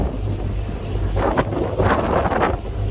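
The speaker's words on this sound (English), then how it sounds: "considering we've got a fair amount of wind" Gusty wind buffets the microphone on a canal boat heading toward Foxton Locks, a low rumble under the wind with louder bursts swelling and fading; no voices.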